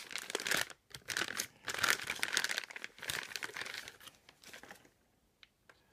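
Loud plastic bag crinkling and rustling in bursts with short pauses, close up, as a block plane is unpacked, fading to near silence with a couple of faint rustles at the end.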